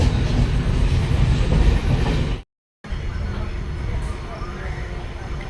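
A MEMU passenger train pulls out of Amlai railway station, heard as a loud, continuous rolling rumble of carriages on the rails that cuts out for a moment midway, then resumes.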